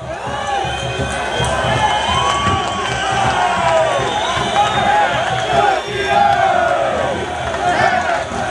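Guarani Futebol Clube fans at the club's centenary celebration, a dense, loud crowd cheering and chanting continuously with swelling shouts throughout.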